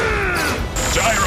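An animated Transformers robot fires a pulse cannon, a loud crashing energy blast with a sweeping whine, while a voice shouts over the barrage.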